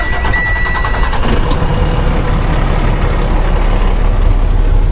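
Darley 75-foot CAFS quint fire truck with a 450 hp Cummins ISL 9 diesel, loud and close, rumbling steadily as the engine turns over and settles into a continuous idle, with no talk.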